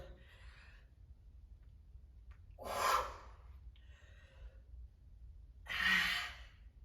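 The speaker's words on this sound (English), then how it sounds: "Inhale and exhale." During a home HIIT dumbbell workout, a person takes two audible breaths about three seconds apart, quiet and close, with a faint background hum in between.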